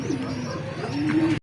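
Racing pigeon cooing close by, a soft low coo repeated a couple of times, the second one steadier and longer, over faint background hiss.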